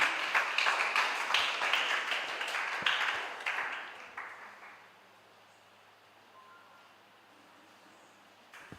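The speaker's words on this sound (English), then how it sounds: "Please, let's clap him as he comes on stage" An audience at an international spelling competition claps as the judge comes on stage, a dense patter of many hands for about four seconds that then thins and fades into near silence, with one brief clap near the end.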